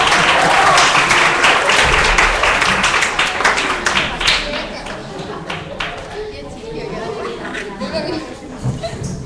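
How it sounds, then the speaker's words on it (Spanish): A church congregation at a Christian center in Calpe applauds, loud clapping that tapers off over several seconds into murmured chatter and light laughter. "Un aplauso para Francisca."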